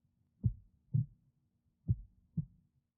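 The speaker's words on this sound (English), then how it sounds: "even as my own breath and heartbeat grow increasingly loud in my ears" A heartbeat sound effect in the game REDLINE Strings of Fate: four soft, low thumps in two paired beats against silence, steady and close.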